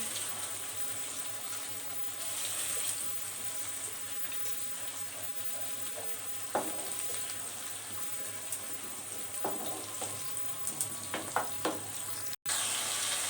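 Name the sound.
garlic and ginger paste frying in a pan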